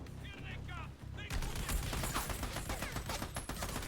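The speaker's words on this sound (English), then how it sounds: "We've already got people shooting us." In the video game Army of Two, in the Kiev underground level, a voice speaks briefly before dense rapid gunfire erupts, loud, overlapping bursts of automatic shots aimed at the players, continuing without pause.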